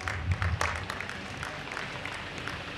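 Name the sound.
audience applause at a memorial meet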